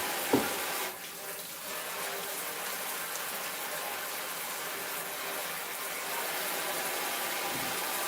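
A kitchen tap runs steadily while food that grows in the ground is rinsed under it. The spray is a constant close hiss with a brief knock near the start and no speech.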